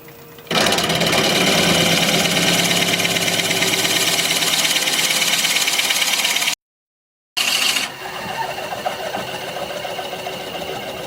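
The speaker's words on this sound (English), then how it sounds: "I'm going to drill within about 1/2 inch of the bottom" Steady, loud whir of a wood lathe spinning a sycamore vase blank at 520 RPM while a 1.5 inch bit drills into the end grain. It runs continuously, breaks off briefly, then resumes with no talking.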